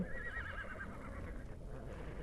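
A horse in the Ark Mobile video game gives a drawn-out whinny with a wavering pitch, moderately loud over a constant low background hum.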